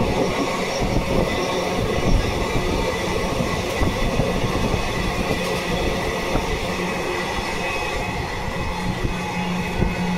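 The Lalgola–Sealdah Express runs along the line toward Sealdah with a loud, continuous rumble, rattle and rhythmic wheel clatter, steady throughout and with no talking.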